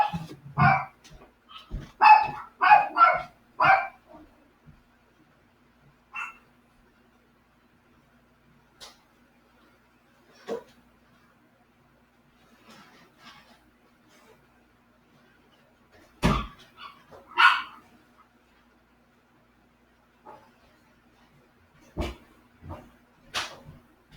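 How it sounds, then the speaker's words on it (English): Dogs bark in a quick cluster at first, then single scattered barks and yips follow at a distance, with quiet gaps between. "Somebody came and they're barking"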